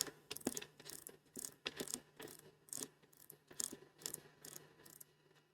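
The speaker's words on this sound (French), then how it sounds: "je vais d'abord descendre complètement le plateau mobile en tournant la molette dans le sens" Turning the knob to lower the mobile table on a Festool KA 65 Conturo edge bander gives a faint, rhythmic series of close mechanical ratcheting clicks in regular bursts, with no talk.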